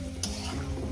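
Taro pieces frying in a pan for a Bengali fish-head vegetable dish, with a steady close sizzle and a brief stirring scrape partway through.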